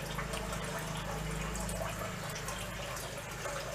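Distillate from a moonshine still running strawberry mash trickles and drips steadily and close by over a constant low hum, with no talking.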